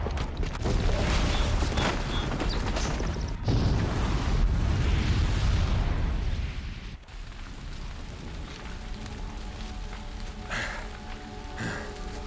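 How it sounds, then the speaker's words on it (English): A bomb explodes in Horizon Zero Dawn as a long, roaring, debris-filled blast that fades into crackling rumble and a few scattered thuds. "Yeah, we just dumped a bomb."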